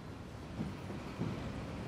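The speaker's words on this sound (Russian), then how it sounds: "Послушай, а вот и наш поезд." A train pulls into the station in the video game Life is Strange 2: a steady, faint low rumble with a couple of slightly heavier swells. No voices are present.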